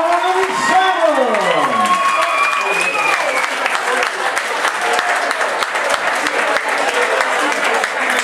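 A boxing crowd at a Scottish title bout applauds and cheers steadily for the new champion, a dense wash of clapping and shouts, with an announcer's voice and a sliding tone sweeping down at the start.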